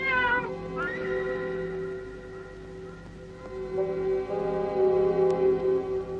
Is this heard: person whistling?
no